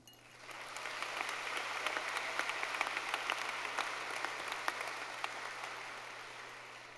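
Applause at a high school graduation commencement fills a large hall, a dense steady wash of many hands clapping that swells quickly and holds for several seconds before easing slightly.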